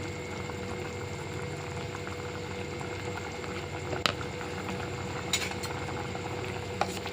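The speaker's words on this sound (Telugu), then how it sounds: "ప్లేట్ వేసేసుకుని కాసేపు కూరని మగ్గనివ్వాలి" A steady, soft bubbling simmer of curry in a pan covered with a plate runs the whole time, with a few faint metallic clinks of a pan or utensil.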